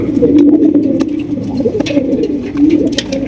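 Dust tumbler pigeons coo loudly and close by, a continuous run of low, throaty, rolling calls with no talking.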